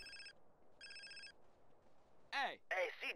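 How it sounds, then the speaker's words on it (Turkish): A phone ringing in the video game GTA San Andreas, two short electronic ring bursts with a quiet gap between them, then louder game character voices speaking over the background. "DJ'nin telefonu hiç susmuyor."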